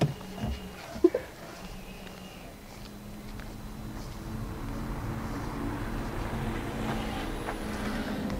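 Renault Clio E-Tech hybrid Intens pulling away, a low engine and road drone building steadily and growing louder over several seconds after a few brief knocks and bumps inside the car.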